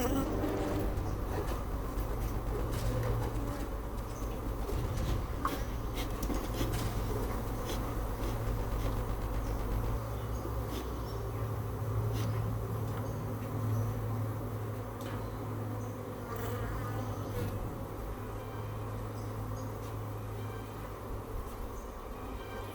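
Bees buzz steadily around an open beehive, a continuous close drone that carries through the whole stretch, with a low hum and occasional clicks beneath and no clear talk.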